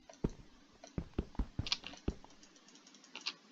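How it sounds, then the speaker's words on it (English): Sharp, sneaky clicks in a survival-horror video game, a handful of quick taps spaced irregularly over a few seconds, quiet and close with nobody speaking. "Sneaky clicking."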